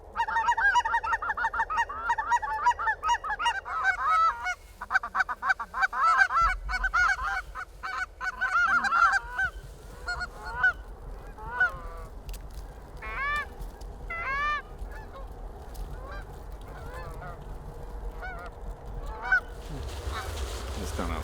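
Geese honk repeatedly from a flock during a waterfowl hunt, with a dense chorus of overlapping calls at first that thins into scattered honks later, along with a low rumble and faint talk.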